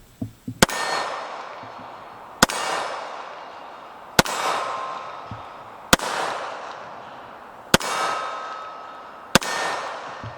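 Six double-action shots from a Colt King Cobra .357 Magnum revolver ring out at steel targets, evenly spaced sharp cracks each followed by a metallic clang and decaying ring, outdoors with no talk.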